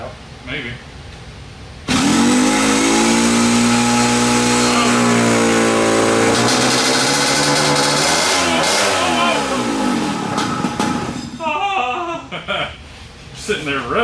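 Vintage 1970s Margay racing kart engine revving hard after a restart, a loud buzzing two-stroke drone that rises and falls in pitch, then sputters toward the end, with people talking around it.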